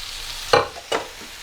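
Potatoes drop into a pan of hot oil and onions, two quick bursts of sizzling spatter close by, then a low continuous frying hiss with no talking.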